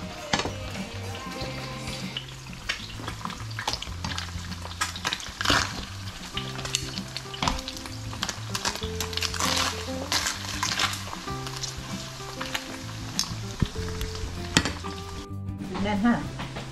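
Food frying and sizzling in a pan at breakfast, a steady crackling sizzle with clinks of cookware and utensils throughout, close and continuous.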